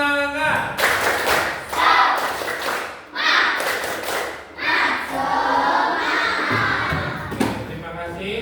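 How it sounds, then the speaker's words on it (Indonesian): A school class performs a rhythmic 'tepuk semangat' clapping chant, loud patterned bursts of claps alternating with group vocal calls and short pauses, close and energetic. "Tepuk semangat."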